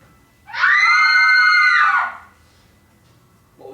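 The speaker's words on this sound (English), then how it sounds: "It's the cry of women" Several women let out a sustained, high-pitched theatrical scream as a stage sound effect in a live Macbeth performance, one loud cry of about a second and a half with silence before and after.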